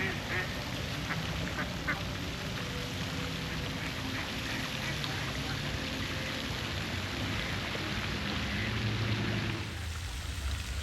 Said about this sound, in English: Those ducks are right like in the fountain, right under it.